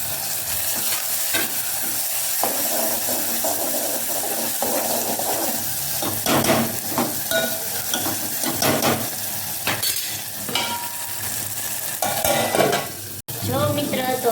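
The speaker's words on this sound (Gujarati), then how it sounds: "તો હવે કાંદાને એવું ચડી ગયું છે, તો હવે આપણે નાખી દઈશું ટમેટું." Onion and tomato sizzle in hot oil as a tempering for urad dal, steady close frying hiss with frequent stirring scrapes and clicks of a spoon against the pan.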